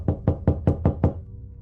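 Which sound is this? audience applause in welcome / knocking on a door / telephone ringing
knocking on a door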